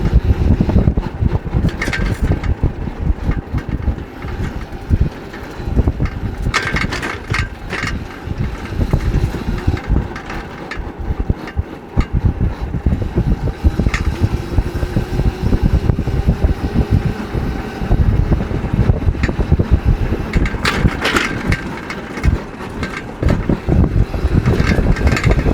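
Homemade powerful go-kart running at extreme speed, its small engine roaring steadily and loudly for the whole stretch, with heavy wind buffeting the microphone throughout.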